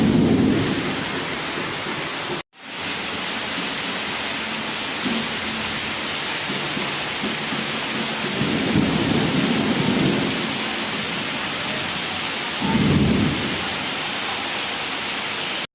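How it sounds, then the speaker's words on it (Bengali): A kalboishakhi (nor'wester) thunderstorm: steady heavy rain hisses throughout, while low rolling thunder rumbles swell several times, loudest near the end, with no voices. "প্রথম কালবৈশাখী হবে।"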